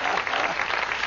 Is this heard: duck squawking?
no